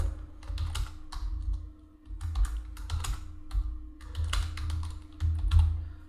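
Fast typing on a computer keyboard while entering a business name for a partnership firm tax filing: dense bursts of clicking keystrokes with short pauses, close and fairly quiet, no talking.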